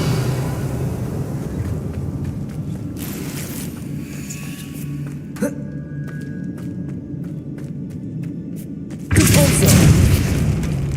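The Bombarda explosion spell goes off in the video game Hogwarts Legacy, two heavy booming blasts with rumbling tails over a low ambient bed, loud and close.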